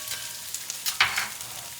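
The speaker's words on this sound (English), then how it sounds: "We'll let the peppers saute a little bit." Peppers sautéing in a pan for pizza, a soft continuous sizzle with light stirring scrapes and small pops, close and fairly quiet, with no talking.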